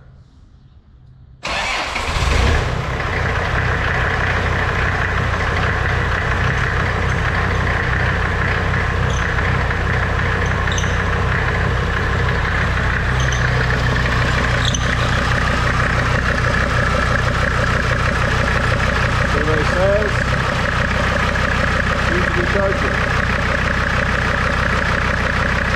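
An LS-swapped engine cranks briefly and catches, then settles into a loud, steady idle that runs on unchanged, with a faint background noise before the start.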